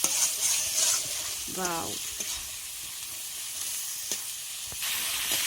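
Pork and masala fry and are stirred in a pan, a steady sizzle with occasional scraping strokes, and a person briefly speaks over the cooking.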